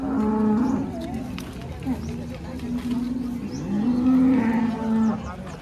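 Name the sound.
cows mooing at cattle market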